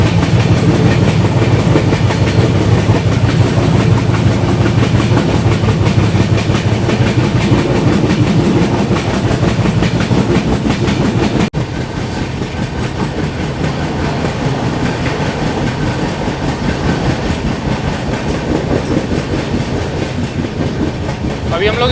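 Mandovi Express train running on the Konkan Railway, a loud continuous rumble with steady clickety-clack of wheels on the rails heard from inside the carriage, a slight drop in level partway through.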